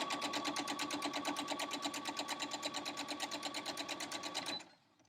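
A sewing machine runs steadily, stitching the edge of a quilt block with a fast, even mechanical patter close by for several seconds before stopping abruptly.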